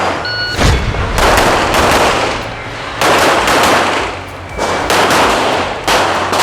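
Loud bursts of rapid gunfire at a shooting range, several sustained volleys separated by brief gaps, close and harsh with echoing tails.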